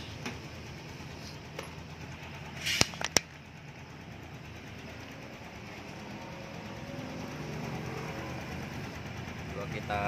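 A six-month-old 2020 Honda Beat Street scooter engine idles with a rough, uneven putter, fairly close. A couple of brief clicks sound partway through, and the idle rises slightly toward the end.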